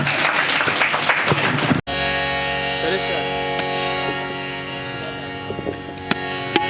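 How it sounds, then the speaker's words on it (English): Loud audience applause at a college orientation program fills the first two seconds after a stage song performance, then cuts off abruptly into steady sustained tones with faint scattered clicks. "Please give them a huge round of applause."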